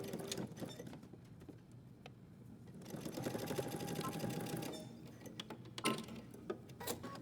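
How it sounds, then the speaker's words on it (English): A sewing machine backstitches a trouser seam with short quiet bursts of stitching, then a longer steady run, then a few clicks and taps, heard faintly and close at hand. "I'm going to stop and backstitch at my dot, break my thread."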